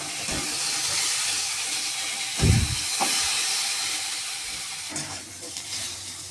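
Pointed gourd (potol) frying in a pan, a steady close sizzle and hiss with a few brief clatters and bumps over it, no voices.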